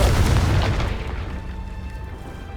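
The Confringo fire spell from the Hogwarts Legacy video game lands as a single deep boom that hits at once and then rolls off into a fading rumble over about two seconds.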